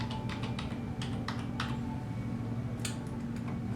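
A password being entered on a computer keyboard: quiet, quick key clicks in short bursts over a low background hum, with a brief pause before a final few taps.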